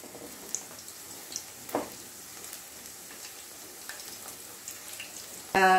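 Chicken deep frying in oil, a soft steady sizzle with occasional pops and a louder clatter right at the end, no talk.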